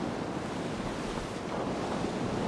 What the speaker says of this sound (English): With this wind, we be bound for success.